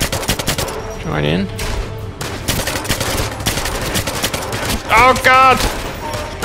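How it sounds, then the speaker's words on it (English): Rapid gunfire fills a James Bond 007 Legends video game firefight, dense bursts of shots rattling throughout, while a man exclaims over it. "They're shooting me while I'm in subdue mode."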